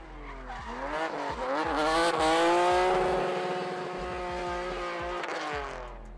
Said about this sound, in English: launched his car in his first run